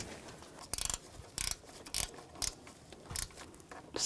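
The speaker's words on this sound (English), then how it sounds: "With those in, now we can tighten these down." A ratchet tightening the water pump bolts on a 2010-2014 Volkswagen GTI makes several short, close bursts of metallic clicking, separated by brief pauses.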